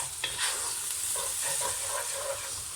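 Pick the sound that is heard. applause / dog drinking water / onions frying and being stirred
onions frying and being stirred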